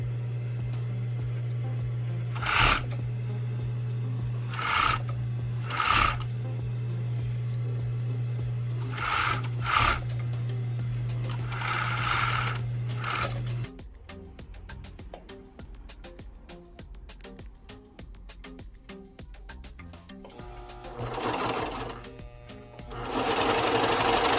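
A sewing machine stitches fabric scraps together for a head scarf, running in a loud steady hum with brief stops, then shifting to a quieter rattling stitch pace before picking up louder again near the end.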